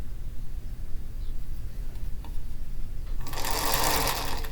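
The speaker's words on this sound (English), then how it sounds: "turn it over and sew it right here" A sewing machine starts stitching a quilt block partway through, a loud steady whirring hum that runs to the end over quiet room noise.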